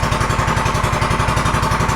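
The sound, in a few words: Predator 212 Ghost engine idling on Manco 458 go-kart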